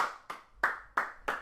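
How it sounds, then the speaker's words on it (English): Five sharp hand claps ring out one at a time in a slow, even rhythm, close and fairly quiet, like a single person clapping alone with no crowd behind. "Round of applause"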